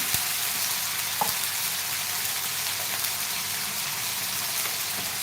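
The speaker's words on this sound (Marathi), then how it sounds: "मसाला चांगला असा परतून घ्या" Masala spice paste frying in a pan for boiled egg curry, a constant dense sizzle and crackle close by at an even level, broken by a couple of faint clicks, with no talking.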